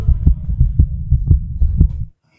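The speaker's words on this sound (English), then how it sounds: "my heart right now is like, this is how my heart beat" Heavy heartbeat sound, a deep throbbing thump repeated in a steady rhythm about every half second, loud and close, then cutting off abruptly into silence.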